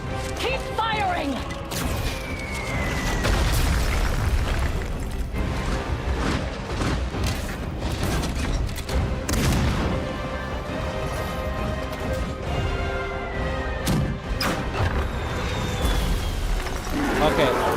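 Weapons fire in World of Warcraft: The War Within, a dense game battle of repeated crashes and impacts under a steady wash of music and effects, loud and continuous throughout.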